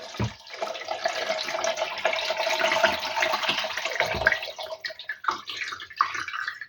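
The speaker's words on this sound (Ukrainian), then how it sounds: "і остальне доверху для того, щоб покрило шкірки, наливаю воду" Water pours from a tap into a pot over pork skins with soy sauce and spices, a close, splashing rush with brief pauses and restarts near the end.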